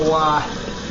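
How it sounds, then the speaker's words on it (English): Water runs from a kitchen sink tap while being warmed up before washing dishes, a brief, close, steady splash with a voice briefly over the start. "you need to run the water a little bit to get it nice and warm"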